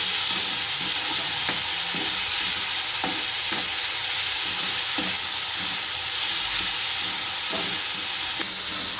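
Garlic cloves frying in a pan, a loud continuous hissing sizzle with faint periodic stirring knocks, alone without talk.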